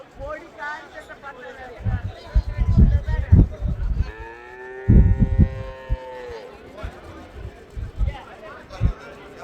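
Cattle low repeatedly at the Kundadam livestock market in Tamil Nadu, where Sindhi cows are traded: a long, loud moo swells in the middle and other calls follow, mixed with crowd chatter, voices and shuffling.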